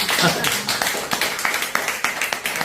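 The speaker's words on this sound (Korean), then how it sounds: "디비지겠다 싶으시면 박수 한번 해주세요" Audience clapping at a seminar-style talk, a burst of many hands applauding in quick, uneven claps, close and fairly loud, with a voice speaking over it.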